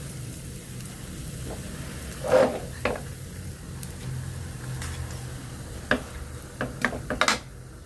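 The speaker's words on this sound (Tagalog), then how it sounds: "Makunat ng haluin. Yung medyo maangat na yung kawali." Thick ube biko sticky rice is stirred in a pan, giving soft scraping and sticky squelching strokes at an irregular pace over a faint sizzle, with no talk.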